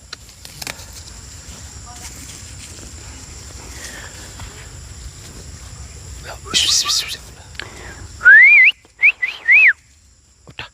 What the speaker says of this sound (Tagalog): Malakas pa yung sipol kaysa sa salita.